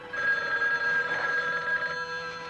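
A telephone bell rings in the trailer for the 1980 horror film Don't Answer the Phone, one sustained, insistent metallic ring lasting about two seconds, fairly close and clear with no voices over it.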